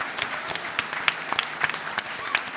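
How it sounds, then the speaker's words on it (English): A convention panel audience giving a brief round of applause, a patchy scatter of hand claps, moderately close, with no talking over it. "so just a quick round of applause for all the people who came here."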